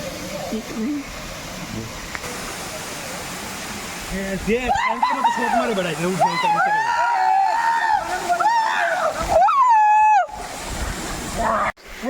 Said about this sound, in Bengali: দেখতে পাচ্ছেন সেই ঝর্ণা, সেই ঐতিহ্যময় ঝর্ণা আপনারা দেখতে পাচ্ছেন